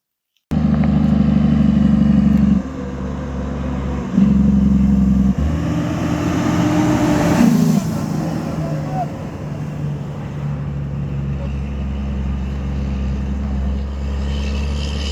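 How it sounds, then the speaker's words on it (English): Vehicles passing on a rural road near a farm toward Morant Bay, a loud close engine drone that swells and fades as traffic goes by, continuous throughout. "Just vehicles coming from Morant Bay going into"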